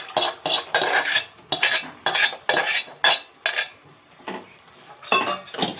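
A spoon stirs cooked moong dal with amaranth and spinach greens in a pot, making repeated loud scraping and clinking strokes in a steady rhythm, close up and alone.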